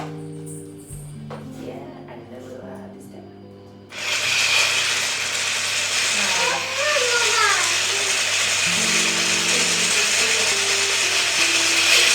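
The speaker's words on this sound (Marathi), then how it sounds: "विस्करायला आपण हे इलेक्ट्रिक ब्लेंडर वापरणार आहोत." An electric blender whisking two eggs starts up after a few seconds of quieter kitchen noise and then whirs loudly and steadily to the end. The motor pitch wavers briefly partway through.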